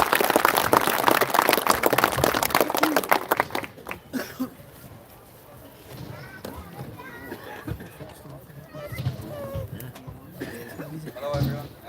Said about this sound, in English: So give a good round of applause for that.